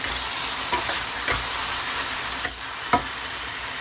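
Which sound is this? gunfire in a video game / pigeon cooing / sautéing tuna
sautéing tuna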